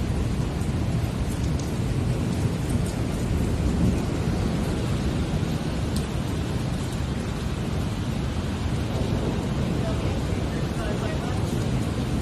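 Heavy thunderstorm with intense lightning: a continuous loud wash of pouring rain and rolling thunder, dense and unbroken from start to finish with no voices.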